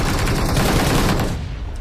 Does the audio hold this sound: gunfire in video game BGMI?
yes